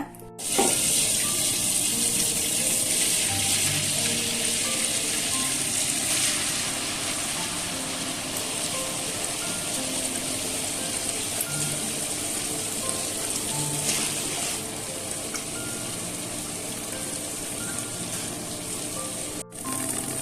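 Wet grinder churning soaked urad dal and rice for crisp medu vada, a steady close whirring and sloshing drone running continuously with no talk.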